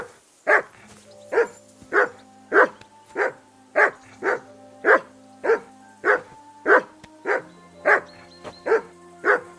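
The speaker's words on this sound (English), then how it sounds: "Henry, call that dog to heel" Steady, loud barking from a dog in the video game Kingdom Come Deliverance II, roughly fifteen evenly paced woofs close up over a faint low background tone.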